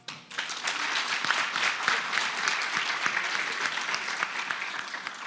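Audience at a university convocation annual general meeting breaks into sustained, dense applause from many hands, loud and even throughout with scattered sharper claps.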